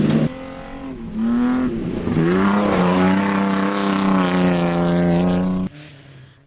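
Fun car racing on the six-kilometre Ouaco circuit: a loud, close engine revs hard and holds a steady high-pitched drone as the car accelerates, then cuts off sharply near the end.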